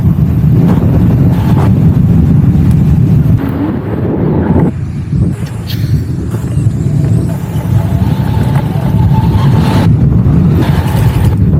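Strong wind gusts buffet the microphone while riding a Niu KQi 300X electric scooter outdoors: a loud, continuous low rumble that swells and dips with the gusts, with no talking.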